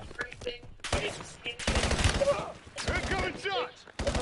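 Gunfire in a Call of Duty BO7 multiplayer match: repeated loud bursts and rapid shots in irregular clusters, close and sharp, with game voices and a player talking over the action.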